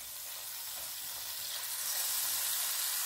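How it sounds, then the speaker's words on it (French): Minced meat sizzles and fries steadily in a hot pan while being crumbled with a fork, a dense, continuous crackle that swells slightly louder toward the end, with no voices. "On prend une fourchette pour bien émietter la viande."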